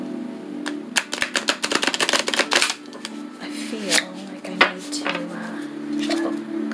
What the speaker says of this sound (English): I feel like I need to shuffle on this deck